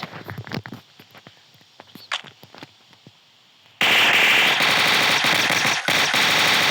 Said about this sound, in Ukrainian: Перевіряємо, як він стріляє.